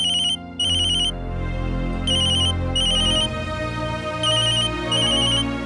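A phone ringtone plays a repeating high electronic melody in bursts, looping several times over a steady background of music.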